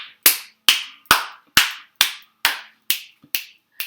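Hands clapping alone, nine sharp single claps at a slow, even rhythm, close and loud with brief silence between each.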